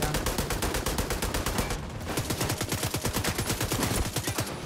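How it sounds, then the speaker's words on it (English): A light machine gun in The Division 2 fires long continuous automatic bursts, the shots evenly spaced and rapid, with a brief pause before the steady stream resumes, loud and close throughout. "Light machine gun."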